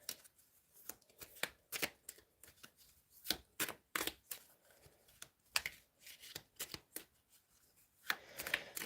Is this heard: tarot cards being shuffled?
yes